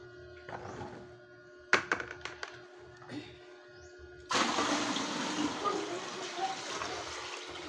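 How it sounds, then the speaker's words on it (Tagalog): Water runs from a kitchen sink tap as a container is filled. Several soft knocks and thuds come first, then a steady, close rushing stream starts abruptly and continues to the end. "Yung mag-iigib dito sa lababo."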